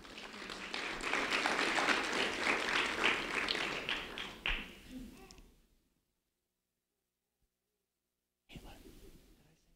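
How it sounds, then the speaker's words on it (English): Round of applause for Caitlin Dvorak, a fourth grade student, at a sheriff's office recognition event, sustained clapping for several seconds that fades to silence, then a voice resumes speaking. "Caitlin Dvorak, a round of applause for Caitlin"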